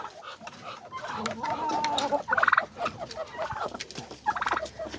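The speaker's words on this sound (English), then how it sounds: "one of the laughing roosters in there with a hen." Several roosters, including laughing roosters, and hens call nearby, with cackling, stuttering crows rising above a steady murmur of clucking.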